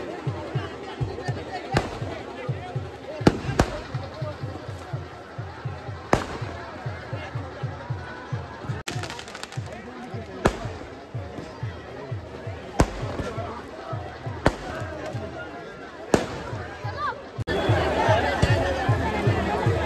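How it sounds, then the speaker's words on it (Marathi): Firecrackers burst in sharp, scattered bangs over a steady rhythmic drumbeat and crowd chatter, some cracks loud and close, others fainter, at a Holi festival in Borli Panchatan, Shrivardhan, Konkan. "आणि वरती फटाके पण फुटत आहेत"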